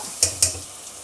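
Onion, green chilli and curry leaves frying in oil for a curry, a low steady sizzle marked by two sharp scraping strokes of stirring close by.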